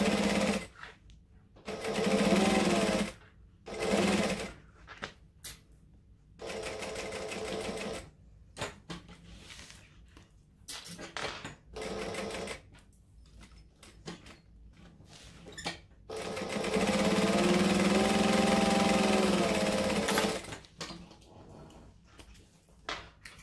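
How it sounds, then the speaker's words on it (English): A domestic sewing machine chain stitching fabric pieces one after another, its motor whirring in repeated bursts of several seconds with short pauses and clicks between, close and fairly loud. "So I'm going to just chain stitch straight onto the next one."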